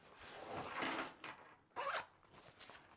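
The zipper on a pouch of an Aer Travel Pack 3 backpack is pulled open in two quick, close, quiet zips.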